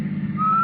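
A man's short, clear whistled note rises in over a low humming background, sustained and fairly close.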